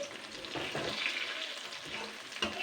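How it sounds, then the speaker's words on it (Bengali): Eggplant pieces fry in oil, a soft, fairly faint sizzle with bubbling crackle and occasional stirring scrapes, close and steady over a few seconds without speech. "সুন্দর করে এগুলোকে ভেজে নিতে হবে, বেগুনগুলোকে লাল লাল করে।"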